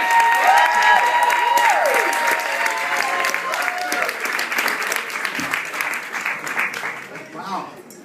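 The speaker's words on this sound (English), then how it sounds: "round of applause for Chad and Lurie." A crowd at the Laugh Factory comedy club applauds steadily, with a few whistles and cheers rising over the clapping before it thins out toward the end.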